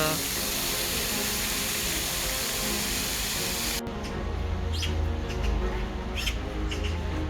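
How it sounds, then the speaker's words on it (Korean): In Yongsan Family Park, birds chirp and twitter in short bright calls over a steady low hum of outdoor ambience, following a burst of loud hissing noise. "새소리가 들리시나요?"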